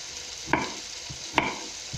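Potatoes and onions fry in a pan with a steady soft sizzle, punctuated by two sharp scraping stirs of a utensil against the pan and a few lighter taps, heard close and without talk.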